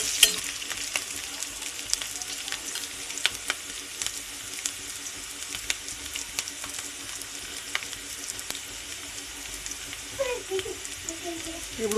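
Green chillies fry in hot oil in a pan for a crab curry, a steady dense sizzle with scraping stir strokes throughout and faint clinks near the end.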